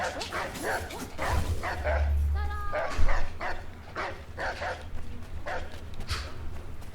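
Dogs in Assassin's Creed III bark and yip repeatedly in a steady run of sharp bursts across the whole stretch, mixed with people talking.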